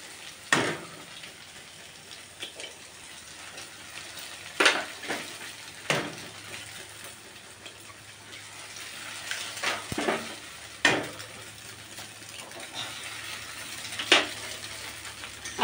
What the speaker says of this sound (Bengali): এখন আমি ডিমটাকেও ভালো করে ভেজে নেব